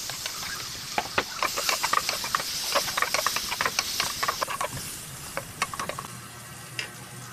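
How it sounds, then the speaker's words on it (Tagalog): Onion sautéing in butter in a hot pan, a steady hiss and sizzle with scattered crackles and pops across several seconds, close up and with no talking. "Lagyan natin yung sibuyas."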